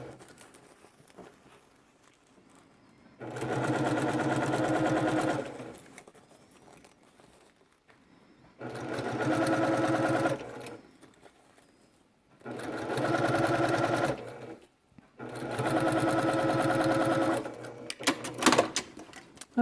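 Sewing machine topstitching a curved seam on a fabric face mask, running in four separate bursts of steady whirring stitching with quiet pauses between, close by.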